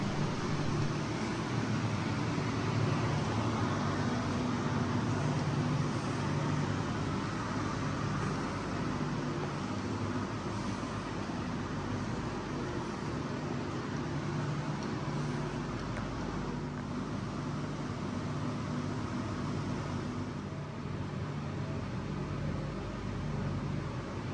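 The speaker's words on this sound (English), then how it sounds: "If you're wondering what that loud hissing noise is in here, I think it's air conditioning units" Air conditioning units in Guernsey's WWII underground tunnel museum give off a loud, constant broadband hiss that fills the space, steady throughout with no break.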